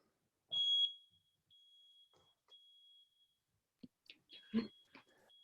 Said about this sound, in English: I think there's a smoke alarm in my house that the battery has gone off in